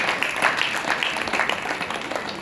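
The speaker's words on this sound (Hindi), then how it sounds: "उनको तालियां बजाओ जोरदार।" An audience at a devotional katha gathering breaks into applause, a dense, fairly soft wash of many hands clapping together for a couple of seconds.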